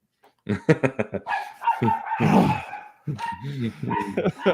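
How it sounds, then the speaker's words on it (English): A small yappy dog barks in quick, loud, close bursts, several sharp yips in a row with a brief whine-like stretch between them. "this dog has barked more in the last 3 minutes than it has in its entire life"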